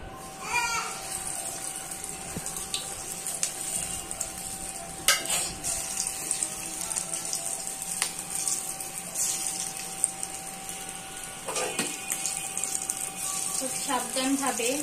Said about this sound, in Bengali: গাইস, এখন আমি একে একে পাকোড়াগুলো তেলের মধ্যে দিয়ে দেব।